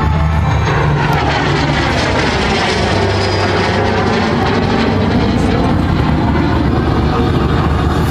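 Jets of the Breitling Jet Team sweeping past in formation at the 2011 Dittingen air show, a loud continuous roar whose pitch bends downward as the aircraft pass overhead.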